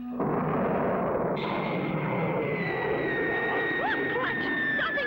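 A rocket blast-off effect from a vintage cartoon: a sudden sustained roaring rush that fills the scene, with a rising whistling tone layered on top, loud and continuous.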